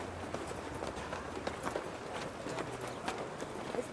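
Horse hooves clip-clop steadily as a horse-drawn buggy travels outdoors, a rhythmic, moderately close series of hoof strikes over a rough road with a faint background murmur.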